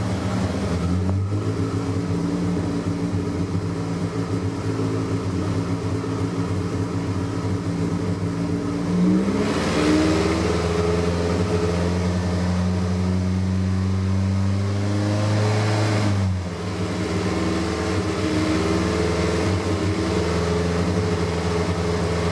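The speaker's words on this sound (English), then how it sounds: "I'm going to rev up the engine just a little bit here" A 1983 VW Rabbit GTI with a 16V ABA engine idles steadily, then revs up with rising pitch, holds at higher speed for several seconds, and drops back to idle.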